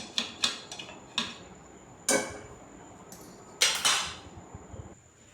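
About three-quarters of a kilo of chicken stirred into curry in a pot, with a metal spoon clinking and scraping against the pot in irregular knocks, close and alone.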